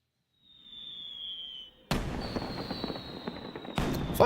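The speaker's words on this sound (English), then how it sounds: "Fireworks." Fireworks in the video game Final Fantasy XII: The Zodiac Age: a rising whistle followed by a crackling burst, then another whistle and a louder pop at the end.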